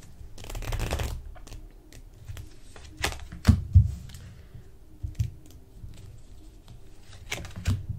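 Tarot cards being shuffled close up, a dense riffling burst followed by scattered soft slaps, flicks and taps of cards, with no talking.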